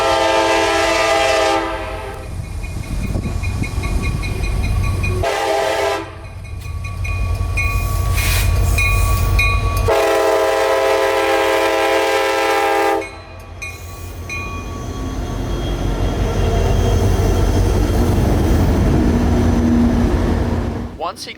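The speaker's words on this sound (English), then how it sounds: "452 was now dragging his train uphill at less than 15 miles per hour" Freight train 452 drags slowly uphill through Dade City siding at under 15 mph, diesel engines rumbling heavily while the horn sounds in several long blasts, with squeals and clanks of cars rolling close by.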